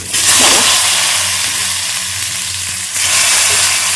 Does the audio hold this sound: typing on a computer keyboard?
no